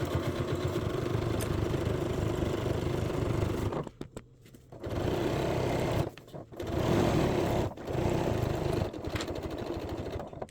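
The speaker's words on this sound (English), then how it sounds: "We're going to start sewing." A sewing machine stitches through a coral beach bag and its lining together, running in loud, rapid mechanical bursts with short pauses between runs, close by.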